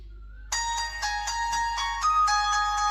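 Music plays through the stereo speakers of a Nokia C5 phone, a bright melodic tune with steady tonal notes starting abruptly after a short quiet moment and continuing clearly and evenly.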